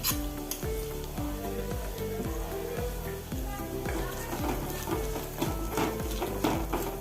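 Powdered roasted peanuts are stirred in a pan over a low gas flame, and a spoon scrapes the pan in a steady rhythm of repeated strokes above a soft, continuous dry sizzle, close by.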